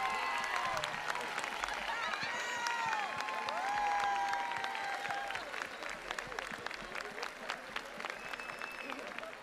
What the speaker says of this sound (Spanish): aplauso a los latinos